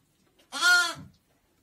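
A ewe that has just given birth to a lamb lets out a single close, clear bleat, alone in an otherwise quiet setting.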